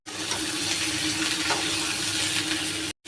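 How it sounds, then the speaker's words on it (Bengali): A steady, close sizzle of pumpkin being stirred into potatoes and chickpeas frying in a pan for a Bengali pumpkin and potato chhokka, continuous and fairly loud with no voices. "এবারে কুমড়োটা মিশিয়ে দিচ্ছি।"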